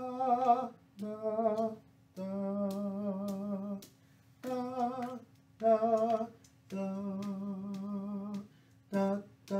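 A recorder plays the simple Hot Cross Buns melody alone: clear, breathy sustained notes in short phrases separated by brief pauses, close and moderately soft.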